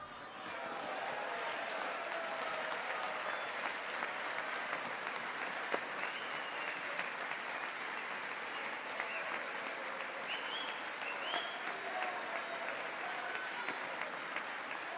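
Sustained applause filling the chamber of Congress during a presidential address, a broad, steady roar of clapping from a large crowd lasting the whole stretch, fairly distant, with occasional faint voices beneath.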